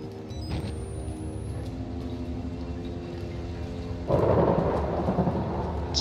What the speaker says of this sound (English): Just lightning.